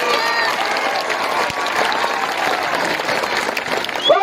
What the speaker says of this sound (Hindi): तालियां बनती है नहीं बनती है?